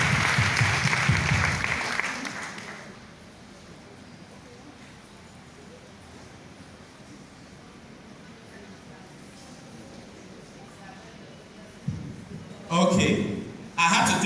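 A crowd claps briefly for an organization at a company event, loud at first and dying away within a few seconds, followed by a long quiet stretch with faint room noise and a short burst of voices or clapping near the end.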